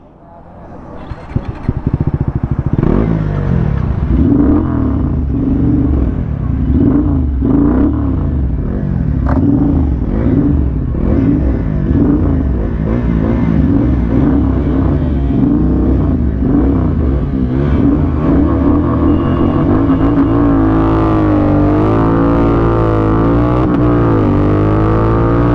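A Royal Enfield Continental GT650 twin-cylinder motorcycle accelerates hard in a drag race against an NS400z, its loud engine climbing through rising revs and gear changes, close to the microphone with heavy wind rush, while a voice talks over it.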